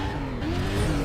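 A Pontiac's engine revs steadily in a racing video game, a continuous mid-pitched drone that fills the whole short moment with no talk over it.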